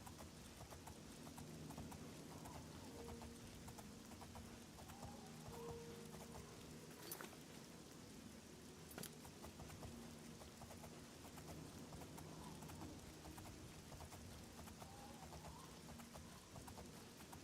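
Horse hooves clip-clop at a steady walking pace over a soft rain-like wash, with a couple of sharper clicks along the way, from the video game Oblivion.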